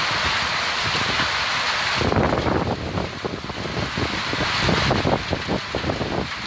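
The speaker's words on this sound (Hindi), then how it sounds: "आज ये तूफान ना बड़ा नुकसान किया होगा" Heavy rainstorm with strong wind in Durg, a dense roar of rain overlaid by buffeting gusts that swell and rattle in bursts, loud and continuous throughout.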